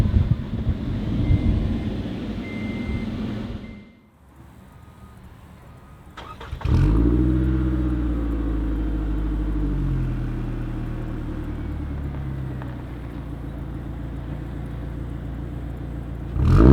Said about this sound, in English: Starting the vehicle is as simple as pushing a button.